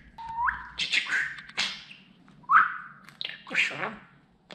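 A budgerigar close by lets out bursts of chirps and sliding whistles separated by short pauses, bright and lively against a faint low hum.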